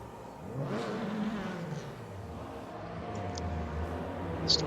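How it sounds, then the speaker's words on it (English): Race cars enter the pits in a WTCR touring car racing game at the Race of Malaysia, with several engines whirring and revving at moderate distance, overlapping in a steady drone. "A lot of cars coming in now."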